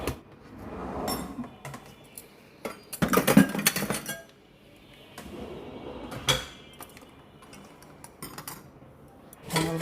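Metal utensils and kitchenware clink and clatter as a Sukani hand blender is pulled out in a home kitchen, in scattered bursts of knocks and rattles separated by quiet gaps.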